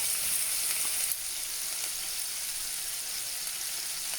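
Onions fry in hot oil in a pan, a steady close sizzle with a brief louder burst at the start, then an even crackling hiss, no voices.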